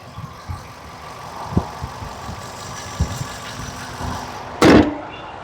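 A car engine idles with a low, steady rumble and small irregular ticks, then a brief loud burst of noise near the end.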